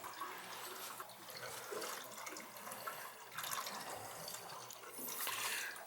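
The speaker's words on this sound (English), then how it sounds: "Got the boiler off, I got the water feeder off, I got it draining outside." Water draining out of residential boiler piping after the boiler and water feeder are shut off, a steady close rushing and splashing flow with gurgling surges and no talk.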